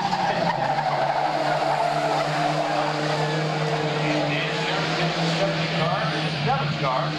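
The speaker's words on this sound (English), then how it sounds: "79 is Joe, giving chase, but still very tightly packed" Race cars circling Portland Speedway in a tightly packed field, engines droning at sustained high pitch with whining tones and tire noise, loud and continuous under a commentator's running call.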